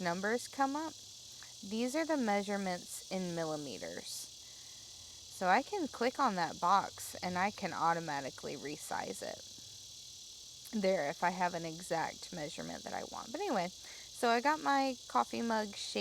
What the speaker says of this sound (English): if you can hear the cicadas going off in my backyard, I apologize